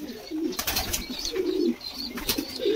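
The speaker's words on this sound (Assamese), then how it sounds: "এইটো চাওক কি ভাল লগাব পাৰ চৰাই।" Fancy pigeons at a pigeon farm in Assam cooing in soft, repeated low murmurs, with a few brief chirps mixed in. The calls come close and fairly loud, and no one speaks.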